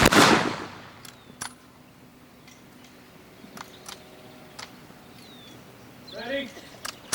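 A volley of rifle fire follows a firing command at a ceremonial drill, one loud close blast at the start that fades into quiet, with scattered ticks and a brief voice later.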